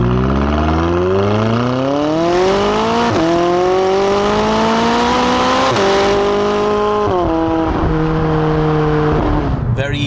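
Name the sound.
sports car accelerating at speed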